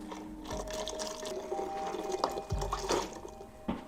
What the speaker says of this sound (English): I'm dumping the rest of this in there as well.